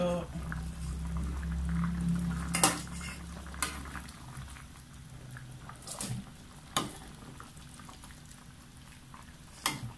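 Cooked chicken for a Malaysian Kuala Lumpur-style chicken curry goes into a cooking pot with a few sharp metallic clanks and scrapes over a low hum, and a person speaks between the knocks.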